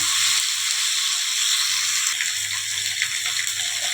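Chopped tomato fries in a little oil with a loud, continuous close-up sizzle that holds steady for a few seconds.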